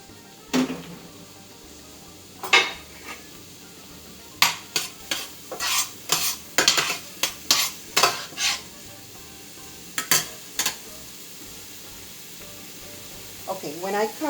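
Onion goes into a hot pan for Cuban imperial rice, with a low sizzle under a series of sharp utensil knocks and scrapes from stirring, clustered in the middle and trailing off.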